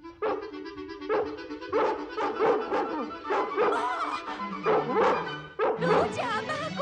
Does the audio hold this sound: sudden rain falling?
no